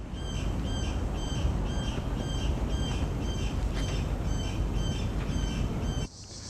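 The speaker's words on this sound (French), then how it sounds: "Il y a des très gros oiseaux, encore un là-bas" Large crow-like birds in Panama City calling repeatedly in a regular series of harsh squawks over steady background noise, cutting off abruptly near the end.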